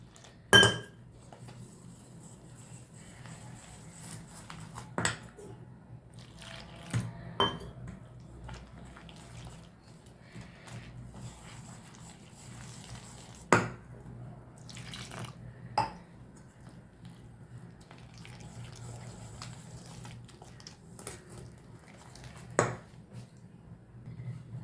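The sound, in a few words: pouring water and mixing potato bonda batter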